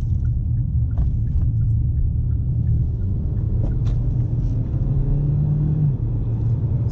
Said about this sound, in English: You can see the RPMs are going a lot higher, RPM, so you can hear the engine a lot more.